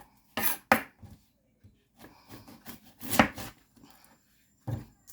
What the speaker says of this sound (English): Let's cut our onions.